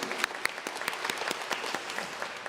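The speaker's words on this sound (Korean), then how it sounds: "우리 큰 박수로 축복해 주셨으면 좋겠어요" A church congregation applauds to bless honored guests during a Korean sermon, a steady wash of many hands clapping at moderate distance with scattered sharper claps, no voices.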